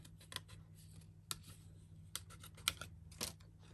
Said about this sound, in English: It actually doesn't take long to cut the butterfly out.